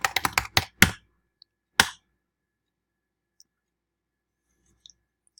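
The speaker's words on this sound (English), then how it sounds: "And then you just start typing your essay as though you're typing a Word document." Rapid burst of computer keyboard typing while composing an essay in a Google Docs–style document, several quick clicks followed by a single later keystroke, then near silence; close and fairly crisp.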